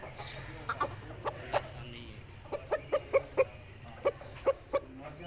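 An Aseel rooster clucks in short, clipped bursts, about a dozen spaced through the stretch, fairly quiet and close, with faint background murmur between them.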